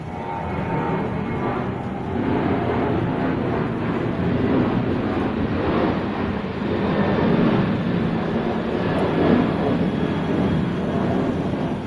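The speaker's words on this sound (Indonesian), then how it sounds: "Jadi suara pesawat lalu lalang ini biasa banget" A steady, loud roar of a jet airplane rumbling overhead near Soekarno-Hatta airport, broad and continuous with a slight swell, no voices present.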